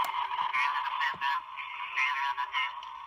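A second press of the Sideshow sixth scale Imperial Probe Droid collectible replays its droid sound: a steady, loud, buzzing electronic warble with pulsing modulation lasting about three seconds, heard alone.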